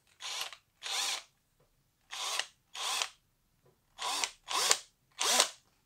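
A cordless drill whirs in seven short, loud bursts, each lasting about half a second with brief pauses between them.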